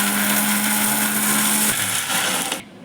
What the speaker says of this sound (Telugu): ఇలా మిక్సీ జార్లోకి వేసుకొని గ్రైండ్ చేసుకుందాం